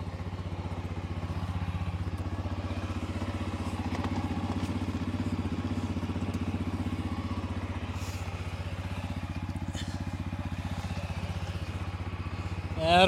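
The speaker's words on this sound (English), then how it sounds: "Definitely nothing wrong with that engine." An engine idles steadily nearby, a continuous low, even rumble with a faint clatter that holds for about thirteen seconds and swells slightly at the very end.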